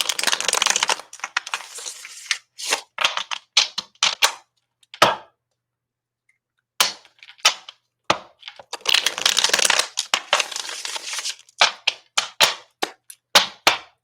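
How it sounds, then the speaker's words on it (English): A deck of tarot cards shuffled in bursts of dry riffling and papery slaps, with sharp taps and brief pauses between shuffles, close and fairly loud. "let's do a few shuffles here, cleansing the decks"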